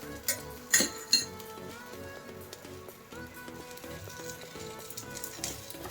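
A knife scrapes and clinks against a new ponganalu pan while the batter sizzles softly on low heat, with a few sharp metallic taps early on, then quieter scraping over the frying.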